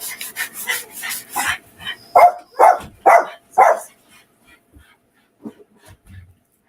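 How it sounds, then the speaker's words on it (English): A pet dog barks in a rapid burst of sharp yips and woofs, followed by several louder, spaced barks close by, then a few faint whimpers. "Sorry about the dog."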